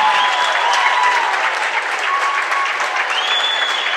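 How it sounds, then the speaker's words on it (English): A high school wrestling crowd from New Hampton applauds and cheers steadily at a quad meet in Osage, a dense wash of clapping held at constant loudness throughout, with no speech heard over it. "Sitting right underneath of us is the New Hampton crowd, and they like that one."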